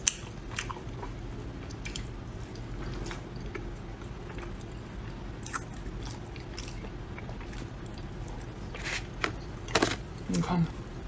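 Close-miked ASMR eating of pig brain with a snail-noodle and lotus-paste filling, soft wet chewing and biting under a steady background hiss, with a few sharper squishy bites near the end.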